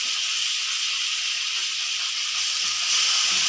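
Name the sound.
crushed ginger, green chilli, garlic and curry leaves sautéing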